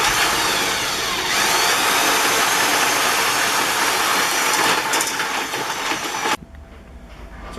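A drill-powered shingle hoist runs in reverse with a loud, steady whirring motor drone that holds for several seconds and then cuts off abruptly, leaving quiet background.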